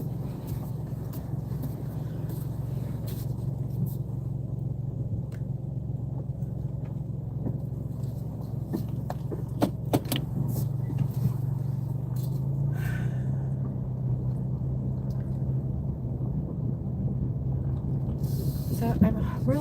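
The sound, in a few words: car driving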